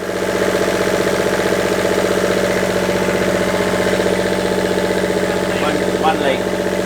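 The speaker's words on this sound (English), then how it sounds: "So we're going to start the engine again." A sailboat's inboard engine idles with a steady, close diesel-like throbbing chug and mechanical rattle, loud throughout, with a brief faint squeak near the end.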